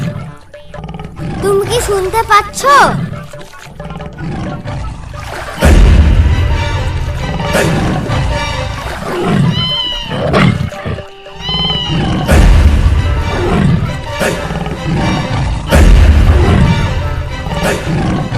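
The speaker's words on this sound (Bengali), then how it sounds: "বাবা ওই দেখো, বাঘে ডাকছে।" A cartoon Bengal tiger roars in the Sundarbans, with loud, rumbling roars rising several times over a dense animated soundtrack while voices talk throughout.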